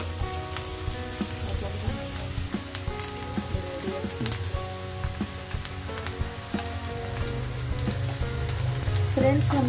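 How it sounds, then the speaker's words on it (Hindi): Onions frying in oil until golden brown, a soft steady sizzle with scattered crackles and pops, growing slightly louder toward the end, with no talk. "हमें इतना ही इन अनियन को फ्राई करना है।"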